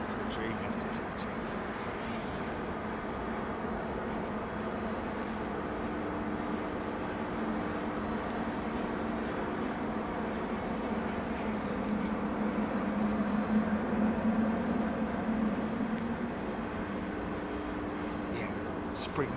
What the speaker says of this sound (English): Wait for the Dreamlifter to turn.